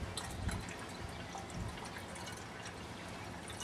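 Fresh water is poured into an engine's cooling system, giving a faint, steady trickle and splash of liquid with soft drips, fairly quiet and continuous throughout, with no talking.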